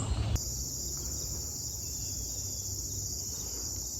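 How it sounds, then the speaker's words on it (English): Cicadas hum in a steady, continuous high drone along the Appalachian Trail on a hot day, an even insect chorus with no voices, after a brief louder rustle at the start. "The hum of the cicadas in the background."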